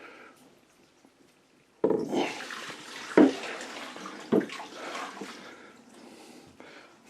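Rainwater from a rain catchment filter draining into a sink, splashing and gurgling, starting abruptly after a quiet moment, with a few louder sloshes and bumps nearby.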